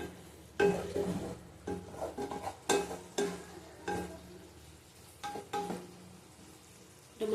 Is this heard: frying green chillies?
yes